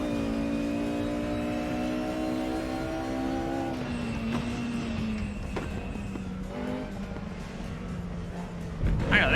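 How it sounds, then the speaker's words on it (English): A race car engine in the RaceRoom sim racing game drones with a steady, buzzing pitch that drops partway through as the car shifts or lifts. Faint tire noise follows, then a louder burst near the end, with no talk. "Oh, they've changed the engine sound on this."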